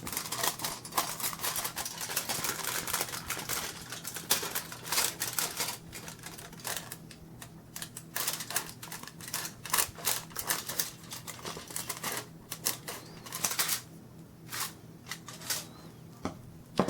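Scissors cutting a thin metal sheet: a rapid series of sharp snipping and clicking sounds, close up and fairly steady, with a low background hum underneath.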